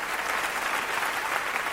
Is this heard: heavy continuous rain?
no